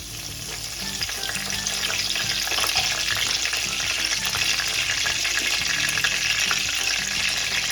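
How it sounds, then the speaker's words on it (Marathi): Cumin and mustard seeds crackle and spit in hot oil with curry leaves, a dense, steady sizzle with scattered sharp pops running continuously, close and loud, with no voices. "आपल्याला जिरं आणि मोहरी थोडीशी तडतड उडू द्यायची।"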